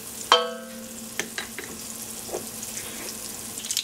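Salt and ground pepper being stirred into a pot of vegan cabbage soup: one sharp metallic clink of a spoon, then scattered soft scrapes and knocks over a faint simmering hiss, close and without talk.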